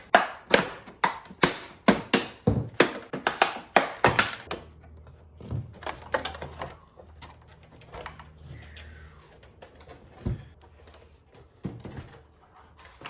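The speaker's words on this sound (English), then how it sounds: "give it a little bit of a pry and get one of our bigger screwdrivers in there" Screwdrivers pry at an OEM BK2 Genesis Coupe tail light housing, first with a rapid series of sharp taps and cracks, then a few sparse clicks and thunks over a low hum.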